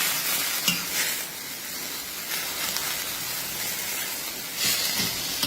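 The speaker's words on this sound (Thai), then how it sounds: "อันนี้คือเราจะทุบกระเทียมกับพริก ผัดไม่นานนะคะ ทุกคน ผัดแป๊บเดียวค่ะ" Crushed garlic and chili stir-fried briefly with water mimosa and a splash of water in a pan, a loud steady hiss like rain with a few scraping stirs and light clinks.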